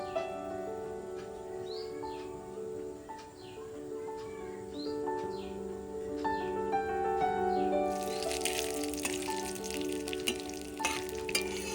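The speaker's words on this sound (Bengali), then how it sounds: "ওই তেলের মধ্যেই দিয়ে দেবে জিরে, তেজপাতা এবং গোটা গরম মশলা।" Cumin, bay leaf and whole garam masala fry in oil in a kadai with a soft sizzle that swells partway through, under quiet background music and faint bird chirps.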